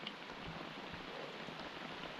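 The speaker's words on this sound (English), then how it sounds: "it's wet and it's raining" Steady rain falls on dense Australian bush scrub, a continuous soft hiss of drops on leaves close around, with no voices.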